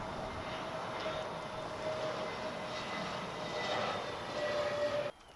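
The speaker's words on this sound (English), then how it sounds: "So that plane that just landed was the Frontier." Frontier passenger airplane landing at an airport, a steady broad jet roar with a faint whine that holds loud and close throughout, then cuts off abruptly near the end.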